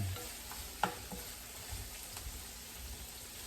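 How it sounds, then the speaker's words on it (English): Vegetables and ham fry in melting butter in a skillet, a soft, steady sizzle close by with one brief clink of a utensil early on. "See, the butter's melting down. The flavor's already getting into the vegetables and the ham."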